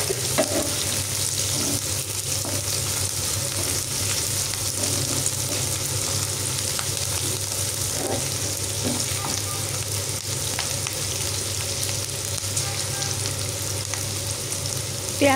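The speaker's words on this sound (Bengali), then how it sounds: "সব কিছু একসাথে দিয়ে নাড়াচাড়া করে নিচ্ছি।" Onion, green chili and garlic frying in a pan, a steady loud sizzle with faint scrapes of stirring running through it, heard alone without any talking.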